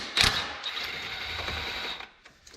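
A 10mm bolt is backed out of the brake line bracket atop a Suburban, Tahoe or Yukon A-arm, making a short whirring mechanical ratchet burst with a sharp click at the start, close and moderately loud.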